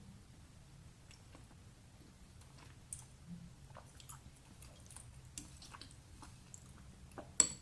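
Someone chews steamed sticky rice made with wild yam and a soft, chewy filling. The chewing comes through as faint, close, moist clicks and smacks over a quiet low hum.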